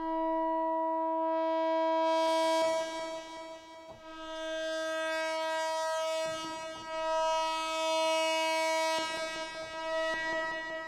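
A Prophet 6 synthesizer pad swells in as a bright, sustained, organ-like chord, rising and falling in loudness several times and trailing off into a reverb tail, heard alone without talk.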